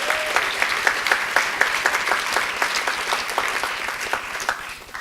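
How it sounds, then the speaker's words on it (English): Sustained audience applause fills an awards ceremony hall with dense, steady clapping at close range, holding strong before tapering slightly at the end. "a round of applause for Lisa and the Day of Days"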